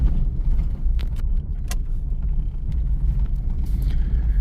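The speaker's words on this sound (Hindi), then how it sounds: "ये 3 गाड़ियां एक के पीछे एक आ रही हैं।" Several cars approaching one after another on a night drive through a tiger reserve forest road, heard as a steady low engine and tyre rumble from inside a vehicle, with a few brief clicks and rattles.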